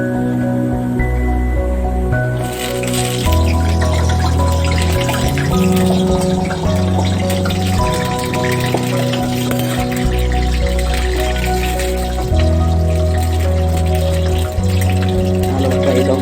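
Eggplants frying in hot oil in a pan, a steady loud sizzle and crackle running throughout, with a faint background tone.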